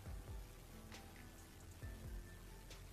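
A rain spell cast in the game Knight Pen and Paper, a soft steady patter of rainfall with a few sharper splashes, quiet and continuous with no voices.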